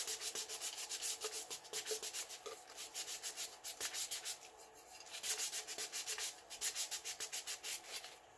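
A glitter tumbler coated in epoxy is hand sanded, giving a continuous rhythmic rasping rub of quick back-and-forth strokes. The sound is close but fairly quiet, with brief pauses as the tumbler is turned, and no talk.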